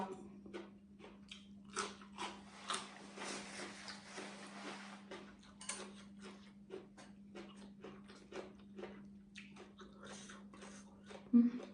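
Someone chews braised pork large intestine wraps up close, giving a steady run of soft, wet bites and mastication sounds over a constant low hum, with faint breathing between mouthfuls.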